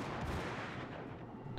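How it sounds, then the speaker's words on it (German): Deep booming gunfire from the battleship South Carolina in World of Warships rumbles in a dense, continuous barrage of muffled blasts, heavy and low. "Da kommen die Schüsse zurück."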